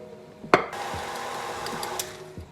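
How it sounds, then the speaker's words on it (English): An electric mixer running through cake batter with milk, sour cream and flour gives a steady mechanical whir, close and moderate, marked by a sharp clunk near the start and a few light knocks. "So I like to stop the mixer when I still see a few streaks of flour"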